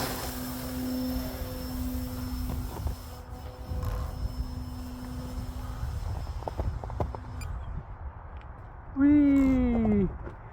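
A Dynam Pitts Python electric model plane takes off from an icy runway, its motor rising into a loud whining buzz that sweeps down in pitch near the end, after quieter ambient rumble.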